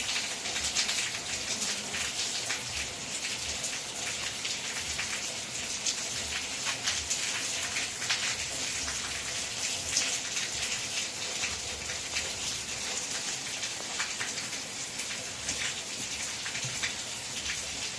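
Steady rain patters and hisses continuously, close by and fairly loud, with no voices over the even downpour.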